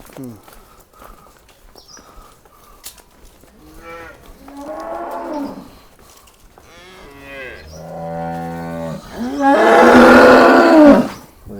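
A Holstein Friesian cow at a farm sale moos several times up close, the drawn-out calls rising to a loud final bellow, with people talking in between.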